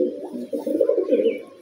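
A Panjab breed pigeon, a bird flown in competitions, gives one soft, low, throaty coo that rolls on for over a second, close by with no other sound.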